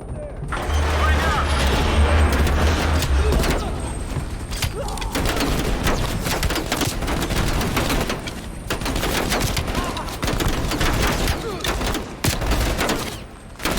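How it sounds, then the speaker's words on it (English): Rapid, close gunfire in Call of Duty Black Ops Cold War, crackling bursts and single shots stacking over each other almost nonstop, with mechanical clatter beneath and a voice talking over it. "I'm getting shot at from too many different angles."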